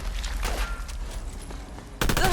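Gunfire in the video game Fallout London: a fast crackle of shots under game ambience, ending in a sharper, louder burst.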